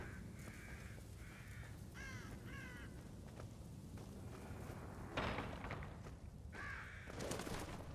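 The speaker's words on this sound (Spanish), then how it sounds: "Los cuervos son enormes, ¿eh?" Crows in the horror video game The Evil Within, several hoarse caws in short bursts at moderate distance over a low rumbling background, with a couple of sharper knocks later on.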